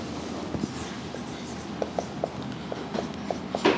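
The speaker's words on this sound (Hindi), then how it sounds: "अब जो है इधर लिख देते हैं" Chalk or marker taps and short strokes on a classroom board during a Class 12 physics lesson, a series of faint, irregular clicks under a teacher's speech.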